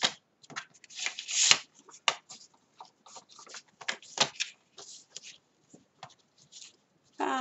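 Paper being cut for a handmade 10x10 mini album: a run of short, crisp snips and slices, sometimes in quick clusters, separated by brief quiet gaps, close and fairly distinct.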